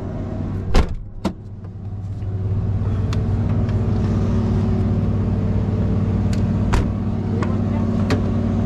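A delivery truck's engine runs outside a 7-Eleven, a steady low rumble held close throughout, broken early by a couple of sharp door-like knocks and later by a few faint clicks.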